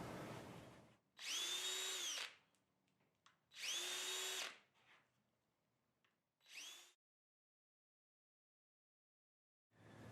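A power drill boring screw holes through a door hinge in three bursts, two long runs and a short final one, with a high whining motor tone, close and loud, separated by quiet gaps.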